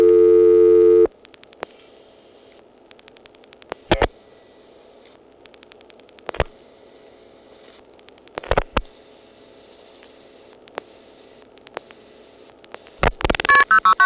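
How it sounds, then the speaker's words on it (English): Telephone dialing on a step-by-step switch: a loud tone at the start, then sparse sharp clicks and pulse bursts spaced across the line, ending in a flurry of clicks. "I'll drop the register sender, dial 8, and start trying to dial a number"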